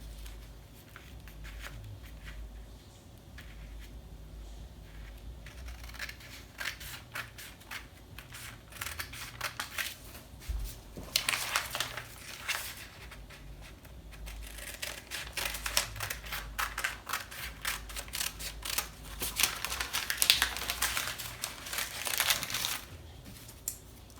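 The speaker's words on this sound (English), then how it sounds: "You're gonna cut out that dart. Okay. Cut out the dart here." Scissors cut a dart out of dress fabric for a bell-sleeve dress, making a long series of crisp, rhythmic snips that grow busier and louder toward the end, close up and with no talking.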